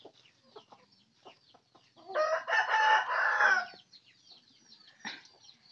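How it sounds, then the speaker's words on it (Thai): A rooster crows once at a pomelo orchard, a loud drawn-out call of about two seconds at middle distance, with faint scattered clucks and rustling before and after. "มีไก่ขันด้วย"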